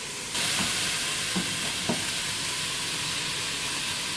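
Onions sizzle steadily in a hot pan for mushroom soup, a continuous close frying hiss with a few soft stirring clicks and no talking.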